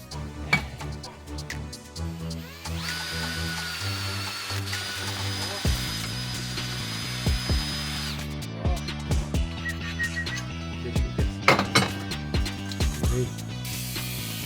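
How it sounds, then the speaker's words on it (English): A power drill whines steadily for several seconds boring a central hole for a 10mm bolt in a homemade tube bender, then gives way to intermittent clatter and bumps of metalwork close by. "I drill a central hole for a 10mm bolt that will secure the entire mechanism"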